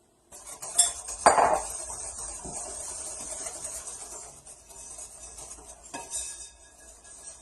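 A utensil mixes dry ingredients into chocolate cake batter in a bowl, starting with two sharp metallic clinks and then settling into a steady, close scraping and stirring with no talk.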